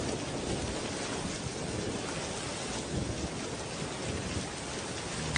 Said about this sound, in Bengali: দেখ বৃষ্টি শুরু হয়ে গিয়েছে